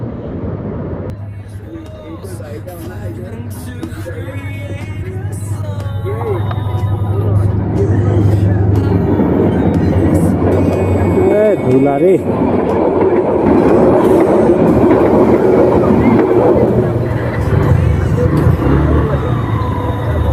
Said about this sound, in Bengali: মানে একসাথে দুইটা ট্রেন, মানে এক ক্রসিংয়ে